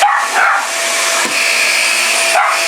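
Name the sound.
Shark Rocket MV481 vacuum cleaner switched on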